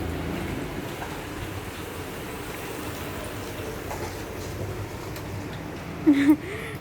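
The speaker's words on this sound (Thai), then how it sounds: "ตอนนี้คือแบบว่าฝนตกเนาะจ้ะเนาะ ฝนตก" Steady, soft rain hisses in the background outside a shop front, a continuous diffuse patter with a brief tonal squeak near the end.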